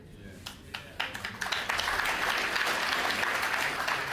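Audience applause at a political speech, starting as scattered claps and quickly swelling into steady, full crowd clapping that holds to the end.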